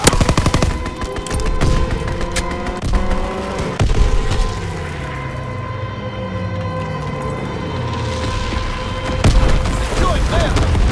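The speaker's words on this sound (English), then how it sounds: "Low altitude bombing run inbound." Dense gunfire and bursts of explosions fill a low-altitude bombing run in the World War II shooter Call of Duty WW2, with aircraft roaring overhead and loud, continuous battle noise throughout.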